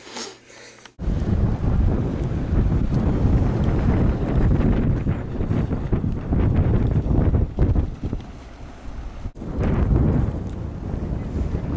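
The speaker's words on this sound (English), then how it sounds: "The weather is 36 degrees, 20-mile-an-hour winds" Strong gusting wind of about 20 mph on a cold early-morning lake at 36 degrees, roaring steadily into the microphone as loud buffeting noise with rumbling water and boat sounds for nearly the whole stretch.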